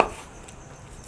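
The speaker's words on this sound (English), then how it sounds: "let's just chop up some meat against the bloody grain" A knife chopping grilled carne asada on a cutting board, a short burst of dull, close thuds against the wood with no voices.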